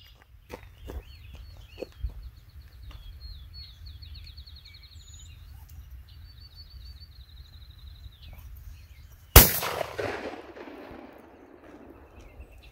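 A single loud shotgun blast at a clay target range rings out near the end and decays into a long echo, after a stretch of quiet outdoor ambience with faint birdsong and footsteps.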